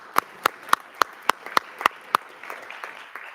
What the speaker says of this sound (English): Another round of applause, please, for all of our students of the month